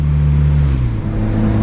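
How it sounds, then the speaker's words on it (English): A turbocharged Honda Civic D16 engine runs under steady load while driving, a loud, close, low droning hum whose pitch dips slightly midway and then holds, with no voices. "Just keep the motor revved up, get everything seated and tight."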